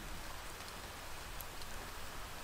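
Steady rain from the video game To The Moon, a dense, continuous hiss of falling drops with no pauses, heard alone without voices.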